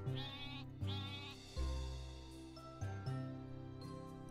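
Sheep bleat in a farm roguelike game, several separate drawn-out cries with pauses between them, clear and close with nothing else behind them.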